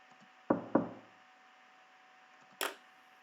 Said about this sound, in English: With renewed resolve, you knock on the door.